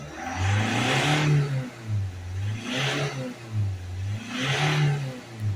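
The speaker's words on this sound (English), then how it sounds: "we're going to give it some hard accelerations." Ford Transit Custom diesel van engine revving hard in three repeated surges, each climbing and falling back to idle, loud and close with no talk.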